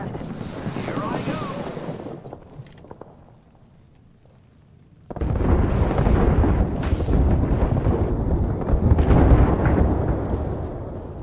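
A frag grenade blast from the battle royale game Apex Legends booms loud and close after a quieter stretch, followed by a sustained roar of rumbling debris and gunfire-like crackle, with voices speaking over parts of it.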